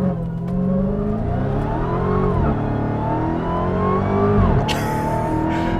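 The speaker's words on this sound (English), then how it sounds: "A 2021 Dodge Charger. SRT Hellcat Redeye Widebody with launch control." A 2021 Dodge Charger SRT Hellcat Redeye Widebody with launch control accelerates hard, its engine note climbing through gears with shifts heard as dips, loud and close throughout.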